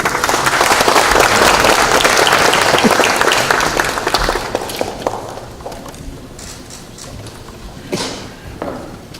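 Applause from party lawmakers at a Democratic Party caucus meeting in the National Assembly breaks out loud and dense, then thins into scattered claps and fades over several seconds.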